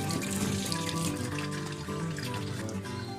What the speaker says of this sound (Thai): เราจะเริ่มจากการล้างข้าวเหนียวก่อนนะคะ ล้างให้สะอาด